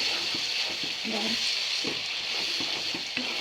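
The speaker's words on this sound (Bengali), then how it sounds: "ঢাকনাটা খুলে আবার একটু লাড়াচাড়া দিয়ে আমার তরকারিগুলো কষানো হয়ে গেছে" A potato and tomato curry sizzles in a hot pan while a spoon scrapes and stirs it in a loose rhythm, the frying hiss steady and close throughout.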